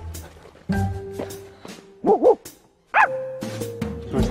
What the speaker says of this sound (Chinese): 你狗叫很危险啊